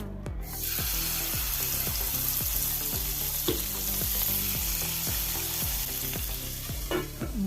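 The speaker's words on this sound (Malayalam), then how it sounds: "വെളിച്ചെണ്ണ ഒഴിച്ച് രണ്ടാമതും ഇനി മീൻ വെച്ച് കൊടുക്കാം" Mackerel fries in coconut oil with a loud, continuous sizzle, broken by regular scraping or stirring strokes, and a brief clink near the end; no one speaks.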